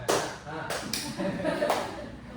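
An audience at an Islamic lecture on child upbringing claps along in a counted clapping game, a few distinct sharp group claps spaced irregularly, with a voice talking between them.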